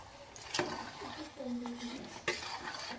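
A spoon stirring salt into samai pongal (little millet pongal) in a pot, giving a few soft scraping, clinking strokes and a brief wet squish, faint and close, with someone talking over it.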